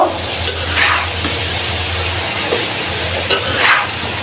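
Boiled taro stolons (loti) fry with prawns in a pan, giving a steady close sizzle broken by a few scraping stirs, with no talk.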